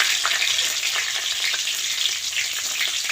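Radhuni seeds, whole bay leaves and green chili temper in hot oil in a wok, a loud, steady close sizzle with crackling pops throughout and no talk.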